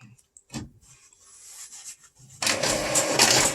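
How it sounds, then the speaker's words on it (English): An office printer prints out a zone map for soil sampling, starting with a few faint clicks and whirs before loud, steady mechanical feeding and rasping that runs on close by. "We're printing that one out."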